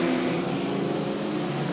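A hot rod race car accelerates hard around an oval track in a 1974 hot rod final, its engine a loud continuous drone that holds steady throughout the short stretch.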